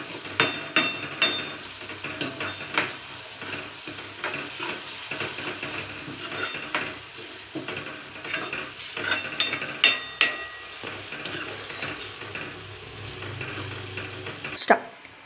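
Onions being stirred in a pan over a medium gas flame, with repeated metallic scrapes and clinks of a spoon against the pan at a steady, uneven rhythm, close and moderately loud.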